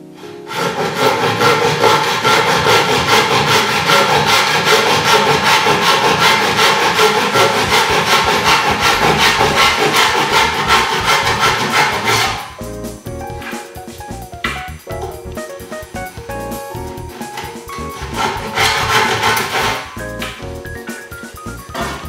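A hand saw cuts through bamboo in a long run of steady, rasping back-and-forth strokes, loud and close, then shifts to lighter, more broken strokes for the second cut.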